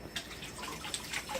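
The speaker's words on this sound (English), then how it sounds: "I'm going to wash my hands quick." Hands are rinsed under a running tap, a soft, close splashing with brief droplet spatters and small clinks, quiet and irregular throughout.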